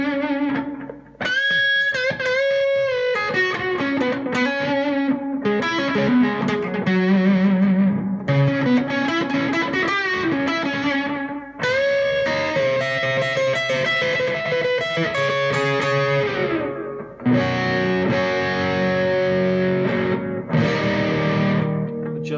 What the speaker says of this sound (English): Try with a touch of distortion.